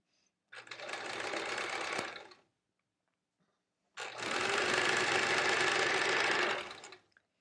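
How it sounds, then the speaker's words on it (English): A Splendid Temper 2 sewing machine does free motion quilting in two steady, loud runs of motor hum, each a couple of seconds long, separated by a short silence. "You've started your free motion quilting on the Splendid Temper 2"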